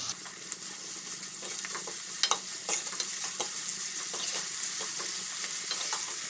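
Sliced onions with salt fry in hot oil for a prawn fry, a steady close sizzle broken by scraping clicks of a spoon stirring the pan, with no talking.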